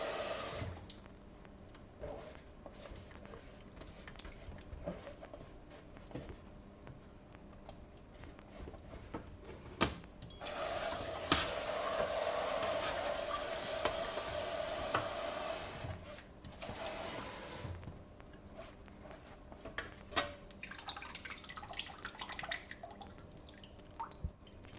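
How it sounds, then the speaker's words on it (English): Boiled white beans are pressed through a sieve with a spatula while water is added, giving soft wet dripping and scraping, with a long stretch of running water in the middle. "press the beans through using a spatula. You can add water to help it go through."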